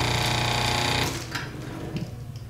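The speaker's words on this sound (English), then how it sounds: "Just plug it in, and the motor pops right off." A washing machine electric motor, wired up and plugged in, whirs loudly at first with a steady mechanical hum. After about a second it drops off abruptly to quieter rattles and clicks.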